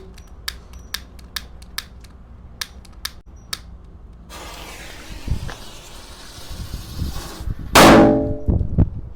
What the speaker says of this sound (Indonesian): Lanjut di sini ada gangsing UFO guys. Seperti piring terbang